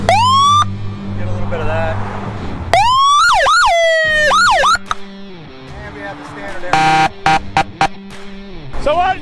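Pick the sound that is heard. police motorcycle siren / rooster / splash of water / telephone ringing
police motorcycle siren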